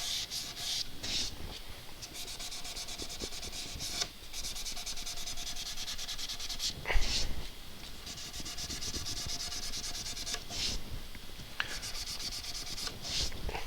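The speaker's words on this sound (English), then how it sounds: "I'm sanding with the line of the figure rather than across it." Steady back-and-forth rasping of sandpaper rubbed by hand on wood, with and against the grain, continuous and close, with a few brief louder strokes.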